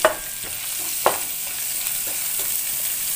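Coriander frying in oil as a tasha for Alexandrian-style liver, a steady close sizzling hiss broken by a few sharp stirring clicks.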